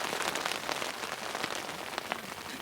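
Steady outdoor rain falls on a surface, a dense, even hiss of drops with scattered louder taps, heard alone without voices.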